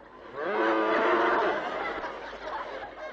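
A cow moos once in a long, loud, close call that rises and then trails off, alone with no talk.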